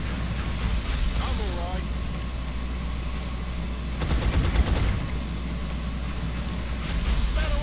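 Gunfire in the XCOM Long War strategy game: a few bursts of shots sounding around the middle of the clip and again near the end, heard under steady background game ambience, while someone talks throughout.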